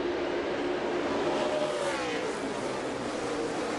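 NASCAR stock cars racing into turn one, a dense, continuous engine roar from a pack of cars with a rising and falling pitch sweep as cars pass, heard at a distance over a broad wash of noise.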